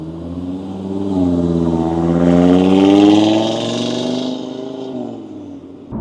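A facelifted Audi RS3 8V with a CTS Turbo intake revs its engine, the tone climbing to a loud, raspy peak before easing back down, close and alone.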